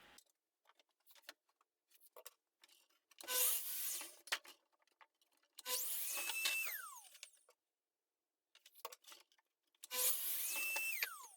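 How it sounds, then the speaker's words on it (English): A miter saw cuts 3mm plywood sheets in two separate bursts, each a loud whining cut of about two seconds, with quiet handling noises and clicks between them. "First I will cut the sheets on the miter saw"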